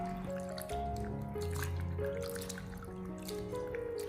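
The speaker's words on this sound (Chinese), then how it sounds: "我们将云耳彻底清洗干净以后，接着给它捞出来控干水分" Water drips and trickles as wood ear fungus is washed and drained, with small splashes and squishy wet sounds close by.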